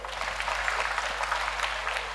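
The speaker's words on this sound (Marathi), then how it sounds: "एकदा जोरदार टाळ्या होऊ द्या." An audience at a kirtan during a harinam saptah gathering breaks into steady applause, a dense, continuous patter of many hands clapping at moderate distance throughout, with no voices standing out.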